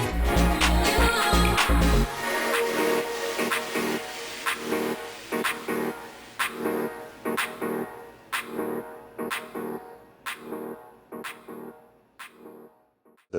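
Music on a Mixon 8 Pro DJ controller gets a Bit Crusher effect across the whole track, so after a full-bodied opening the mix thins into gritty, hollow, stuttering pulses that fade steadily quieter toward the end.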